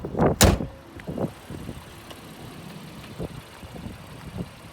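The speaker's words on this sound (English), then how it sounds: "I'll go ahead and put this hood down so that we can take it for a tour." The hood of a 2019 Honda Ridgeline RTL-E comes down with one loud, close thud near the start, followed by a few faint knocks and low background noise.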